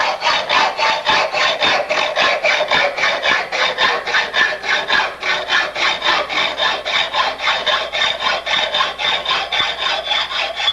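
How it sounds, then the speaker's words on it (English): A file working the end of a lugged bicycle frame tube clamped in a vise gives a loud, close rasp in regular back-and-forth strokes, about two per second, steady throughout with no talk. "Now put this in the vise, and we'll just carefully clean up the end"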